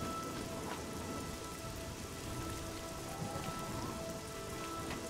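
Steady rainfall in the video game Oblivion (The Elder Scrolls IV), a continuous even hiss of drops hitting surfaces with no breaks and no voices.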